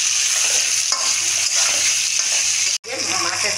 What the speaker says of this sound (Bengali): এই আদা বাটা আর এই কাঁচা লঙ্কা এগুলো দিয়ে দিলাম, আর হলুদ দিয়ে এবার এটা এখানে নাড়াচাড়া হোক